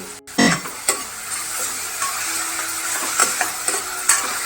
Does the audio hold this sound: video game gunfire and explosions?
no